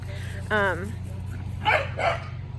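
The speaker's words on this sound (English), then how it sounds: "We've also got my dogs, my personal dogs, running around, serving as a distraction." Pet dogs running around during a training session, giving a burst of yips and a couple of short barks at close range over a steady low hum, with people talking nearby.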